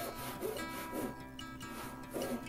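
A hand saw cuts through a wood billet about 1.5 inches thick with steady back-and-forth strokes, repeating roughly every half second. The rasping sounds close and moderately quiet, with no talking.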